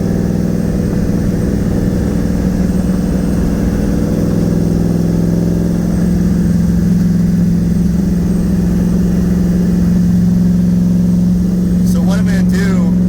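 A Nissan Z31 IMSA widebody car's engine runs steadily while driving, a continuous low hum with a rise in pitch near the end, and someone speaks over it.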